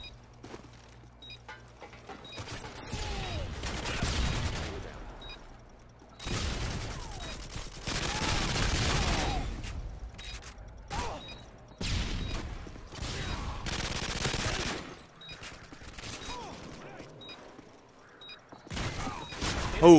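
Sniper fire and other gunfire ring out in a competitive shooter match, heavy shots arriving in loud clustered bursts with quieter gaps and mechanical clicks between them, nearby and with no speech over it.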